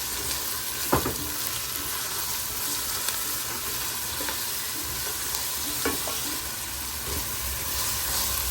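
Onion, ginger and garlic fry and sizzle steadily in a pan, a constant hiss broken by a few scraping stirs, close and without talk.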